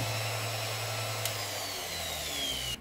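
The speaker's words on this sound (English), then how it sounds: "together are working the bench grinder and the flexible drive shaft" A Parkside PDFW 120 A2 double bench grinder with flexible drive shaft runs with a steady loud motor whine and hum, slowly dropping in pitch before cutting off at the end.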